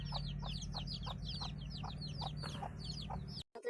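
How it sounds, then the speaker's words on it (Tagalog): Newly hatched chicks and chickens on a farm, with repeated high peeping chirps and clucks over a steady low background hum, fairly close, ending with a brief dropout. "There's another chickens here. New hatch chicks."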